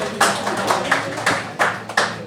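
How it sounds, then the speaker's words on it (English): A small live podcast audience claps briefly, a sparse, uneven patter of individual hand claps rather than a full roar, fairly close. "A round of applause,"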